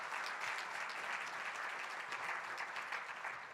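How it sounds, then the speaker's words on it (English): A seated audience at a Michigan energy and economy event applauds to welcome students, a steady, moderately distant patter of clapping that holds for several seconds at a soft level. "How about a round of applause to welcome the students,"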